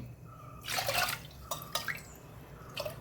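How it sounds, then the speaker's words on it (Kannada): About four cups of water splash and pour into a pot for millet pongal in a few short bursts, close by, with brief pauses between pours. "ಈ ಲೋಟದಲ್ಲಿ ಒಂದು 4 ಲೋಟದಷ್ಟು ನೀರುಗಳನ್ನು ಹಾಕ್ಕೊಳ್ತಿದ್ದೇನೆ."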